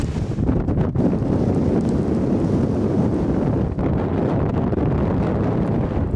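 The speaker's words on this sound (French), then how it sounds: "il y a tellement de vent" Strong wind roars and buffets the microphone in a constant, loud rumbling gust with no pauses.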